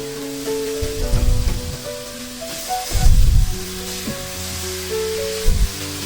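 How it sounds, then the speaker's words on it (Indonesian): Ground spice paste sautés in hot oil in a home kitchen while tempe is being cooked, with bursts of loud sizzling as it is stirred and scraped, set against a softer continuous hiss and some clinking. "Setelah panas, tumis bumbu yang sudah dihaluskan."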